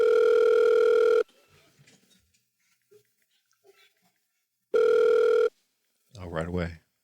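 An outgoing telephone call rings out with two long steady ring tones separated by a quiet pause of several seconds, heard close and loud, followed by a brief voice at the end.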